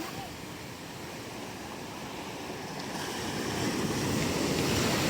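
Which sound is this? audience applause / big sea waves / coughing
big sea waves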